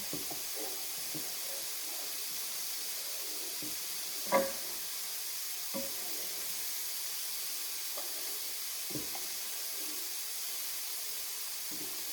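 A pumpkin spice mixture with vegetables simmers in a pot, making a faint, steady hiss broken by a few soft bubbling pops, one slightly louder than the rest.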